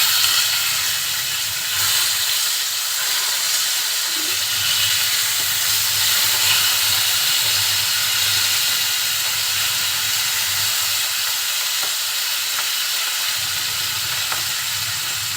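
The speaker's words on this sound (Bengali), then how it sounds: "মাছগুলো আমি উল্টে দিব এক পাশ ভালো হয়ে গিয়েছে" Flipped rohu fish sizzling in hot oil in a pan, a loud steady hiss of frying with soft low rumbles underneath and no voices.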